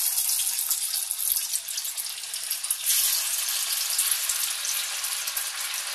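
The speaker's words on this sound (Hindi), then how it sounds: "तेल गरम हो गया है. मैं चिकन को इसमें फ्राई करती हूँ." Chicken pieces fry in hot oil in a kadhai, giving a continuous bright hiss and crackle that stays fairly steady and close throughout, with no talking.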